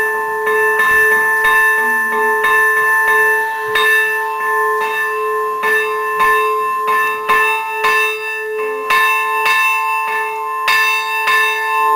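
A church bell rung by hand at six in the morning, struck again and again at an uneven pace, each loud, close clang ringing on and overlapping the next.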